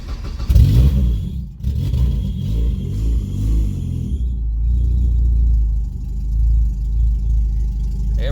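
PT Cruiser engine with an open header cranking and firing up, a loud rough starter burst followed by a deep, raw, uneven idle rumble that settles and continues, close and unmuffled.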